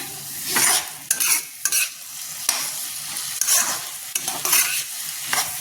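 Ripe papaya stir-fried in a pan with repeated spatula scrapes in bursts over a crisp, steady sizzle, close and fairly loud, with no talking.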